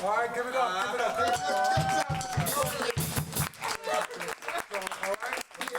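A crowd claps and cheers for the Trenton Central High School band, a noisy burst of applause rising midway while someone talks over it.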